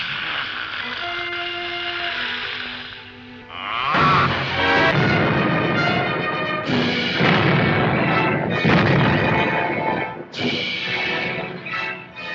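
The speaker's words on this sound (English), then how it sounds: "the original ending featured Frankenstein and his fiancée, Elizabeth, dying in the explosion" A loud, sustained explosion sequence closes the 1935 Bride of Frankenstein, starting at about four seconds with heavy rumbling blasts and crashes set against orchestral film music and continuing to the end.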